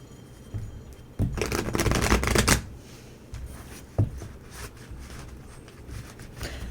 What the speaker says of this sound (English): Little shuffling snafu. Almost dropped some cards.